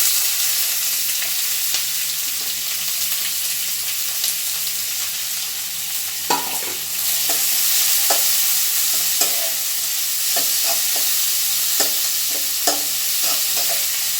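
Onions sizzle steadily in hot oil for a chicken gravy, a continuous bright frying hiss with occasional soft clicks of a spoon stirring, close and fairly loud with no talking.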